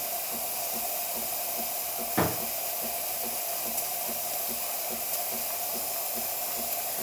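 Steady hiss of a coffee machine's steam wand running continuously in a workshop after cleaning, close and constant, broken by one brief knock.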